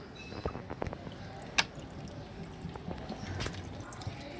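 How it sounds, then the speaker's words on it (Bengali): Water trickles and drips onto freshly potted plants, quiet splashes and drips scattered across a few seconds with one sharper drip, faint and close, over a soft background. "যেহেতু পটিং করার পর তো জল দিতে হয় দুজনকে একটু জল দিয়ে দিই"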